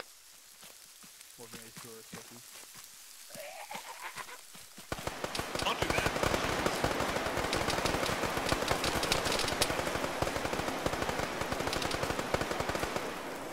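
Sustained video game gunfire rattles in dense rapid bursts after a quieter start with faint background sounds, continuing loud and steady for the rest of the stretch.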